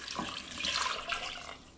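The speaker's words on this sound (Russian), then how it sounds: "Заливаем это все холодной водой." Cold tap water pours into a multicooker bowl of salted potatoes, a short rushing, splashing stream heard close up and alone.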